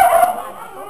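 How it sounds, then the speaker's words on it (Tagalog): A dog gives a single short, sharp bark or yip, close and loud, at an outdoor class reunion gathering. "Aso."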